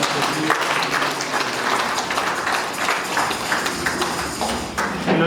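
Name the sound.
congregation applauding in church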